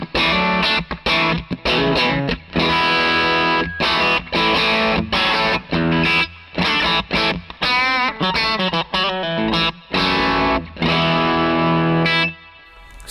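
Telecaster through a Thorpy FX Veteran Si boost pedal, trebly and piercing, pumping out a fast riff of driven chord hits and short pauses, loud and close, with a final chord ringing briefly at the end.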